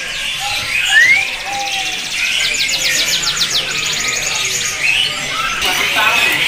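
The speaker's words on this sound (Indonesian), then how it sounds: "Nah, ini burung kenarnya lagi bunyi aja ya teman-teman ya." A canary sings with rapid trills and high chirping phrases, moderately close, alongside other bird calls in a bird-shop setting, with someone talking quietly underneath.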